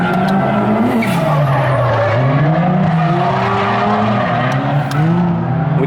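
Mazda RX-7 drifting on a track, tires squealing loudly and continuously, the pitch sliding up and down as the car swings through its angle, with the engine droning underneath.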